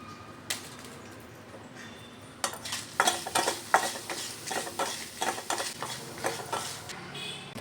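Chilies fry in a hot pan for mango gojju, with a steady sizzle and a run of sharp stirring and utensil clicks that grows busier partway through; no talk.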